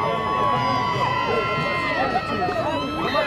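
Crowd cheering at the 2017 Nowka Dour boat race, a dense, steady roar of many voices with shouts and whistles rising near the finish, heard loud and continuous throughout.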